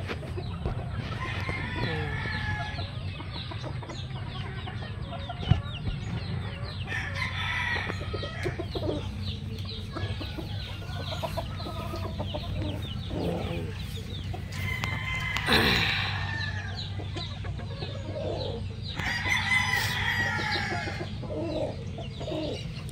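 Gilmore gamefowl chickens cluck steadily nearby while roosters crow several times over a constant farmyard background.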